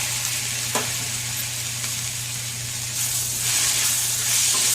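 Chopped tomatoes sizzle and fry steadily in a hot pan with lentils for a tomato chutney, a continuous close hiss that swells slightly louder toward the end, with no talking.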